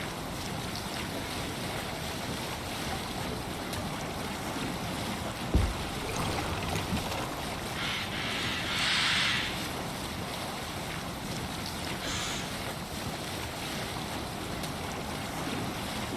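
A sailing ship at sea in Assassin's Creed Valhalla, with a constant rush of waves and wind around the hull and a single dull thud partway through, steady and unbroken with no voices.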